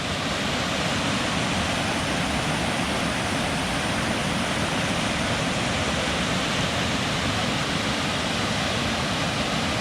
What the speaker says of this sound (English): Well, here's another waterfall.